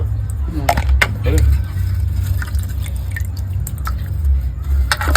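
Hilsa fish is rinsed in water by hand, with splashes and drips scattered over a steady low hum, close by, while a person talks throughout.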